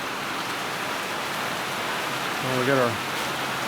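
Steady rain falls outside nearby, a constant even hiss that continues under brief speech from a man.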